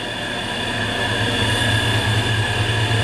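Turbocharged pickup truck engine running under load on a chassis dyno in cold weather, a loud continuous roar with a steady high whine and a low rumbling hum, unbroken for the whole stretch.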